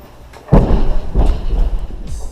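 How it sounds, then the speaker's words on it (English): Heavy weights dropped at a neighbouring CrossFit gym land in a few dull, booming thuds, muffled through the wall and spaced about a second apart over a steady low background. "Next door from me is a CrossFit gym. And apparently they're training by lifting weight and dropping it."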